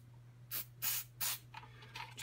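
Contact cleaner sprayed onto a dirty volume slider during a SEGA Genesis console repair, three short, fairly quiet aerosol bursts followed by softer spritzes over a faint electrical hum.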